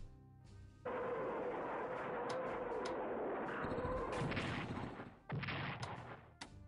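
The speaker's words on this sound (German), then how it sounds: "Vielleicht kann trotzdem die Artillerie zuerst schießen." Artillery fire in the WW2 strategy game Strategic Command WW2, a sustained loud booming barrage with sharp cracks, briefly dropping out before a second burst near the end.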